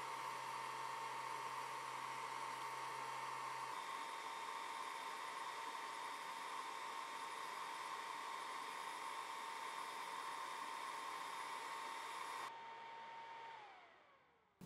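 An xTool infrared 1064nm diode laser engraving stainless steel gives a steady, loud fan-like whir with a constant tone, shifting slightly partway through, then winding down at the end.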